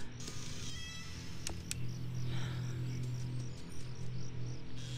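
Pet cats meowing indoors, a few drawn-out mews close by over a low steady hum and faint electronic game sounds, with no one speaking.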